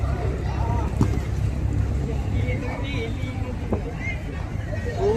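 A passenger launch cruises on the Ganga with a steady engine and water rumble mixed with wind buffeting the microphone, while a person speaks over it.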